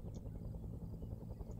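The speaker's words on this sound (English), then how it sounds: "Look at the helicopter, like," A helicopter flies in during a Vietnam-era Arma military game, a steady low rotor rumble and drone heard faintly at a distance throughout, with no speech.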